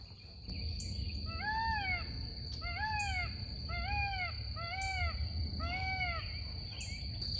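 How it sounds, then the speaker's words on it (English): A neighbor's peacock calling on a homestead, repeated loud, harsh honking cries in bursts of several calls, carrying over a steady high insect-like whine and faint background noise, with no talking. "That was a neighbor's peacock."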